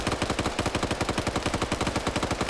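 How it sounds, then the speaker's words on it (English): Sustained automatic AK rifle fire in a video game, a loud, close burst of rapid evenly spaced shots running without pause. "Now you got the Horde coming in as they heard that AK."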